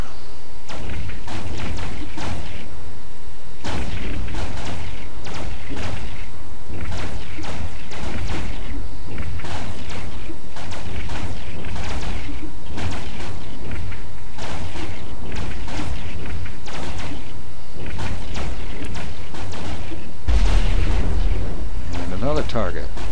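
Ship weapons in EVE Online firing at a locked target, with repeated booming, thudding shots in a dense, irregular barrage that runs nearly the whole time, growing heavier toward the end. A voice talks over the gunfire.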